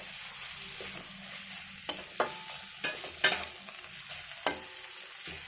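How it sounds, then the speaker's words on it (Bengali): Chopped tomatoes with salt fry for rajma in a pan, sizzling steadily while a spatula stirs them. Several sharp scrapes and clanks stand out, and no one talks. "এটাকে ভালো করে ভেজে নেব।"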